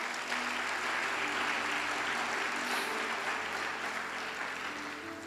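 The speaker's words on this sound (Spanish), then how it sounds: "Dale fuerte un aplauso al Señor" A church congregation applauds during a Monday sermon, a broad, soft wash of many hands clapping that holds evenly throughout and tapers slightly at the end.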